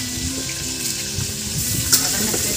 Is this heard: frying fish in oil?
yes